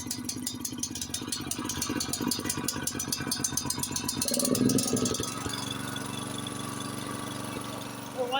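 A Honda HS828 snowblower engine, started cold with the choke on, runs at a steady idle with a rapid mechanical rattle and rumble. Partway through there is a brief surge before it settles back to a smooth running drone.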